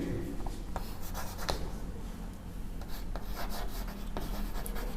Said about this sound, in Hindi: इससे मान लीजिए एक सेंटेंस हम लिख रहे हैं बोर्ड पे